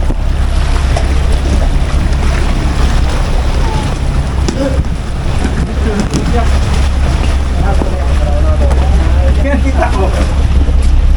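A boat ride from the Jetty Port to Boracay, with loud continuous engine rumble, buffeting wind against the microphone and splashing water, close and unbroken throughout.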